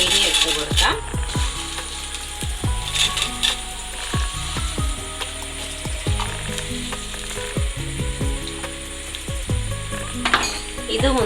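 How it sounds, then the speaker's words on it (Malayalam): Grated coconut sizzles in hot ghee while a spoon repeatedly scrapes and stirs the pan in quick rhythmic strokes, close and steady throughout. "ഇനി ആ നെയ്യിലേക്ക് നമുക്ക് കുറച്ച് തേങ്ങ ഇട്ട് കൊടുക്കാം."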